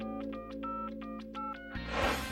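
Telephone keypad tones beep in a quick run of about eight evenly spaced presses over a steady dial tone, ending in a burst of line noise; close and clear, no talk.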